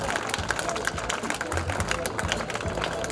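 A short stretch of crowd applause at a school ceremony at Aadarsh Vidyalay in Basu, dense clapping mixed with background chatter, steady and fairly distant.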